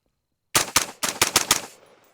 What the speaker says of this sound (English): let's do a little bit of a mag dump, and then we're going to shoot it at the meat here